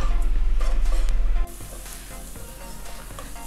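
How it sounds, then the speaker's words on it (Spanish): Pepper and cumin sautéing in a pan for a fish sancocho, a steady close sizzle and frying crackle that drops to a softer hiss partway through, with no voices. "Vamos a sofreír esto unos 3 o 4 minutos."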